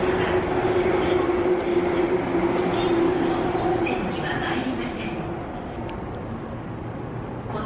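A JR Actee train pulls into platform 2 at Hiratsuka station. It makes a loud, steady rail rumble with a sustained humming tone that gradually eases and quiets as the train comes to a stop.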